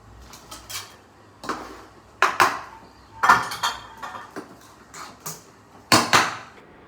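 Sambar is mixed in a metal cooking pot, giving sharp clinks and scrapes of a utensil against the pot in uneven bursts with quiet gaps between, close and fairly loud with no talk.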